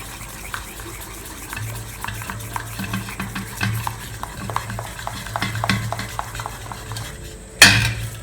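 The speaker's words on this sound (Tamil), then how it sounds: "சுத்தமாக லம்ஸ் இல்லாமல் நல்லா கலக்கி வச்சுக்கோங்க." Spoon stirring a mixture in a pot, steady scraping strokes with light clinks of utensil against the pan, continuous and close, ending in a sharp metallic clatter.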